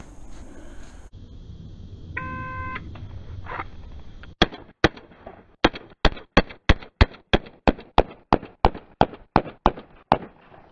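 An FNH FNX-45 pistol fires a rapid string of sharp, loud shots during USPSA-style speed drills, about sixteen evenly spaced cracks after a quieter lead-in, close by with no talking.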